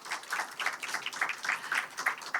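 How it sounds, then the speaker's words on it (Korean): Audience at a Seoul election campaign rally claps in short uneven bursts, fairly faint and thin, with a light crowd sound behind it. "박수 한번 주십시오."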